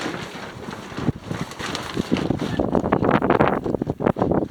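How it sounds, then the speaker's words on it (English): Gusty wind blowing outdoors among trees, a rough roaring rush with strong buffeting on the microphone that swells louder toward the end. "you see that wind is blowing"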